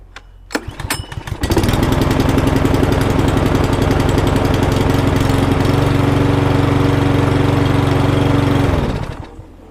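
A used self-propelled lawnmower's small petrol engine is pulled into life after a few sputters, then runs loud and steady at close range for several seconds before cutting out near the end.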